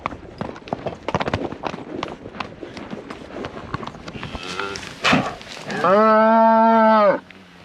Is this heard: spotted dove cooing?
no